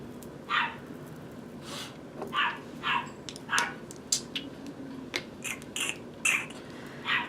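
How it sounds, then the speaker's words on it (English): Several dogs bark indoors in short, sharp bursts, a dozen or so yaps scattered irregularly with some overlapping, moderately near over a low background hum. "why are my dogs throwing a tantrum?"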